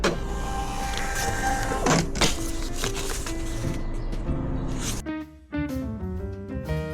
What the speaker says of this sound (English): it will print out a test label